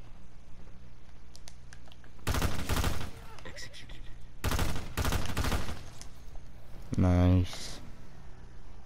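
Gunfire in the video game Black Ops 4 comes in two loud, dense bursts of rapid shots separated by quieter gaps, with a player talking over the game sounds.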